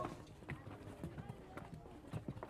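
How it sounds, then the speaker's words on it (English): Donkey hooves clip-clop along the narrow, car-free alleys of Lamu's old town on Africa's east coast, a few uneven hoof knocks at close range beneath a bustling street murmur and narration. "The streets bustle with donkey traffic."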